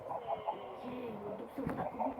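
Video game chickens cluck softly and continuously, a low, murmuring farmyard sound at fairly quiet volume.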